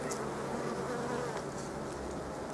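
Honeybees swarm over a hive frame, filling the air with a close, continuous drone that hums on steadily with no talking.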